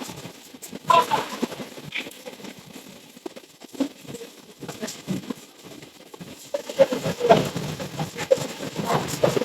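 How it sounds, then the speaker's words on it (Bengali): Large hailstones fall with steady rain, giving a continuous patter broken by frequent sharp, irregular clicks and knocks that grow denser and louder toward the end. "বৃষ্টির সাথে সাথে শিল করতেছে আর কি"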